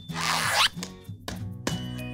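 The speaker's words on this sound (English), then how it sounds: "Let's zip our adventure bags together!" Kids' adventure bags are zipped up in a children's church program, with one long loud zip followed by two shorter quick zips over a background musical tone.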